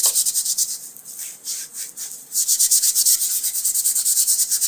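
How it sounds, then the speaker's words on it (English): Sandpaper lightly scuffing aircraft interior trim on a Piper Arrow before repainting, a steady close rasping rub in repeated strokes that eases briefly midway and then resumes, with no talk. "when you just lightly sand something before"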